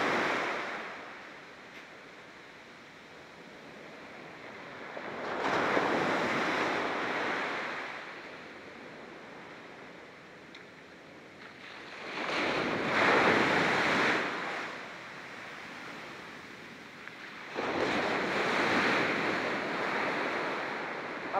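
Sea waves surge and break on a shore in three loud swells separated by quieter wash, with steady wind rumbling across the microphone throughout and no voices.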